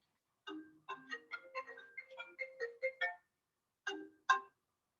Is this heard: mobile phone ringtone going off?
yes